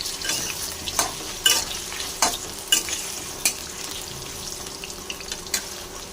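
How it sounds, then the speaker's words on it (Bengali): Potatoes frying in hot oil for a coriander chicken dish: a soft, constant sizzle broken by sharp clinks and scrapes of stirring at irregular intervals, close and fairly quiet. "তেলটা গরম হলে আলুগুলো লাল করে ভেজে নেব"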